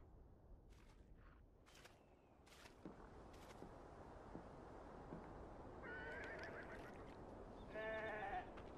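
Sheep bleat in Beyond: Two Souls, several wavering calls mid-distance near the end, preceded by a few brief sharp animal cries over a quiet outdoor ambience with no talk.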